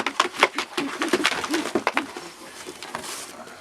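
A red pigeon coos in soft, repeated throaty bursts close by, with rustling and a few faint background noises between calls.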